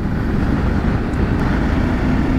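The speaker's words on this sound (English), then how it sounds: "The bike pulls very nicely to the 100 kilometers." BMW G 650 GS Sertao single-cylinder motorcycle cruising at about 100 km/h, a steady loud roar of engine drone and wind rush with no gaps, heard from the rider's position throughout.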